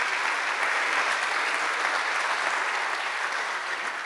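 A church congregation applauds together in a steady, dense burst of clapping that holds at an even level for about four seconds, with no voices rising above it.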